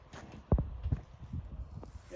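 A foal's hooves clip-clop a few times on the ground, with a couple of distinct, fairly close thuds amid soft outdoor background; people are talking nearby.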